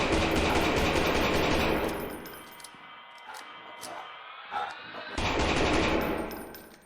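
Rapid gunfire in the horror video game Lost in Vivo, a dense burst that fades, quieter game sounds in between, then another loud burst of shots.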